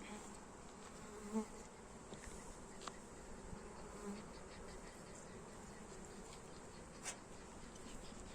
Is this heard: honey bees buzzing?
yes